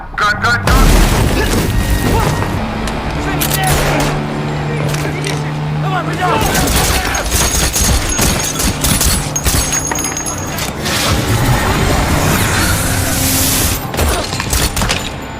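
Gunfire and booms in a chaotic action-film shootout inside a house, repeated loud blasts and mechanical clatter under a narrator's voice and a dense background score.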